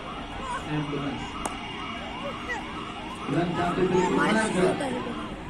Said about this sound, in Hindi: एम्बुलेंस जहाँ भी जा रही है